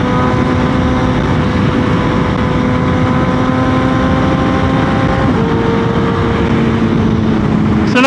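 BMW M1000R motorcycle with a carbon fiber windscreen and Sprint air filter accelerating on a road, a loud steady engine drone over heavy wind noise, its pitch dipping briefly partway through as if shifting.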